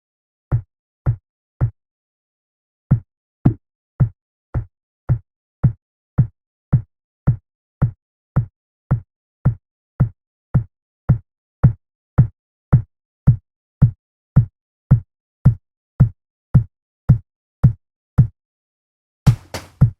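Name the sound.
kick drum beat made from field recordings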